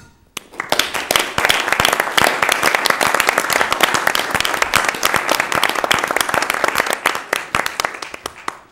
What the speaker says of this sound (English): It's not very often that you hear an annual report actually get a round of applause